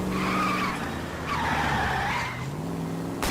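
Tires squeal and a car skids hard during a chase in the 1940s Los Angeles detective game L.A. Noire. The screech is loud and continuous, rising and falling in two long sweeps over a steady engine roar, with no talking.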